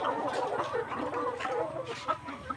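On a poultry farm, a flock of 184-day-old laying hens in production gives off a faint, steady murmur of clucking and soft calls, distant and continuous.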